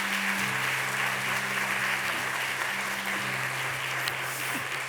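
A church congregation gives a steady, loud round of applause to welcome guest speaker Professor Kim Ji-ho to the front. The clapping stays dense and unbroken throughout.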